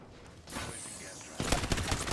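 Rapid gunfire from enemies in a sci-fi shooter video game, a dense burst of shots that grows louder and more intense partway through, heard close without talk.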